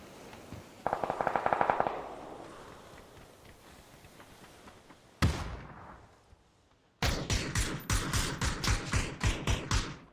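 Video game gunfire: a quick burst of rapid automatic fire, then a single sharp shot, then a long run of loud rhythmic bursts that fill the end of the clip.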